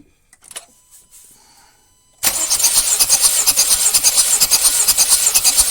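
A Honda car engine cranks continuously on the starter during a cylinder compression test, a loud, rapid, even rhythmic chugging that starts abruptly after a quiet moment and holds steady.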